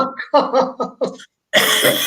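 A person coughs several times in a quick burst, short harsh hacks close to the mic with a brief throat-clearing quality, followed after a pause by a louder, rougher outburst.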